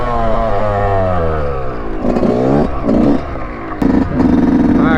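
A two-stroke dirt bike engine revs repeatedly, its pitch sliding down from a high whine, then rising and falling in several sharp bursts with brief dips between, loud and close.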